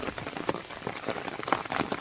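Cartoon rain sound effect for a rainy day in a village: a steady, fairly loud hiss of falling rain with scattered sharper drop-like taps throughout, heard alone with no talking.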